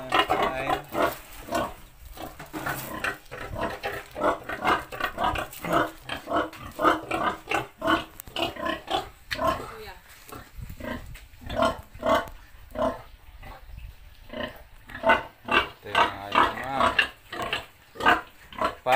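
Sows on a farm grunt repeatedly in dense, rhythmic bursts close by, a steady run of low snorting grunts rising and falling over the whole stretch, with occasional voices mixed in.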